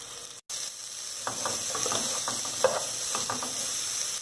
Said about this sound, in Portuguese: a gente ainda vai fritar aqui a cebola junto